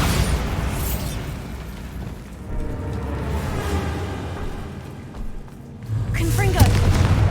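A Bombarda exploding spell in Hogwarts Legacy lands as a rumbling blast over a low, continuous magical roar, followed by a fresh burst near the end, while a voice speaks over it.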